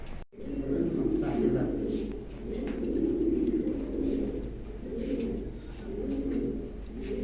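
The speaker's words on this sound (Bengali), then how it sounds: "খুবই চমৎকার একজোড়া কবুতর" A pair of pigeons in a pigeon shop coo steadily and close by, a repeated throaty rolling murmur in several rounds with short pauses.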